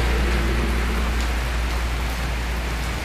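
Heavy rain pours down steadily outdoors in Laos, a dense continuous hiss with a low rumble underneath, loud and unbroken throughout.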